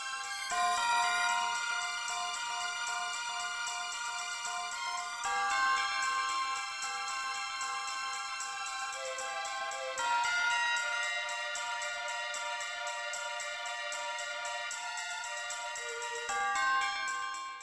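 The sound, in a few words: bell throughout Kirby 64 stage music, video game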